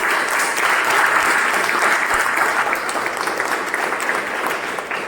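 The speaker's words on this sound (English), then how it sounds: "Can we have a huge round of applause for these four people?" Sustained clapping from a meeting audience at a speech marathon, thick and continuous at first and gradually thinning toward the close.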